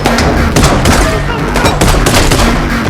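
Gunfire in a John Wick 4 film scene during a drifting car sequence, with loud, rapid bursts of shots rattling in quick succession over a dense roar of engine and action noise.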